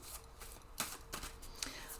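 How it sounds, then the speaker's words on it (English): A deck of tarot cards is shuffled idly by hand: soft papery riffles and slides with a few sharper snaps, close and fairly quiet, with no talking. "I've just shuffled the cards idly while I'm talking to you"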